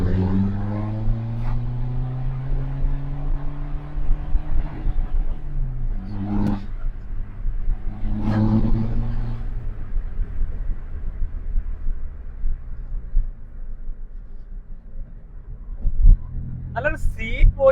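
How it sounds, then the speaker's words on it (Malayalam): A stage 2 tuned Suzuki Swift VDI Type 3 diesel car with a modified exhaust idles with a deep rumble, rising and falling, then blips its throttle twice in sharp revs. A voice talks over parts of it. "ഇനി ആ എക്സോസ്റ്റിന്റെ ആ ഒരു സൗണ്ട് ഒന്ന് കേൾപ്പിച്ചു തരാം."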